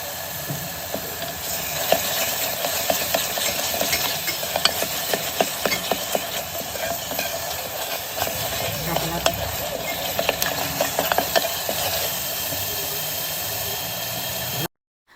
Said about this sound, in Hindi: तो चलिए सारी चीज़ों को अच्छे से पका लेते हैं, क्योंकि इन मसालों को पकाने में ही टाइम लगता है।